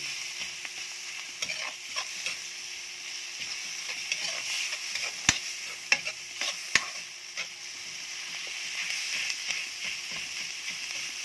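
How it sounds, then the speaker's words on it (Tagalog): Ground meat frying in a pan gives a steady, moderately quiet sizzle close by, dotted with small scraping stirs and a few sharp ticks of utensil on metal. "Lutuin natin maigi yan, guys, yung giniling."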